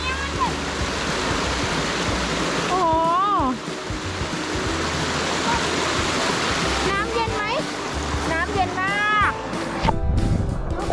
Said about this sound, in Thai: ตรงนี้ก็เป็นน้ำตกเล็กๆนะคะ